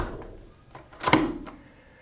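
A sliding door fitted with a door sensor is pulled shut, with a soft rolling rumble building to a firm thunk as it closes, followed by a faint click, close and moderately loud.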